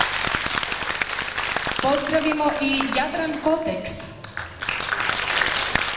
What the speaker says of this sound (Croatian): Jedan srdečan aplauz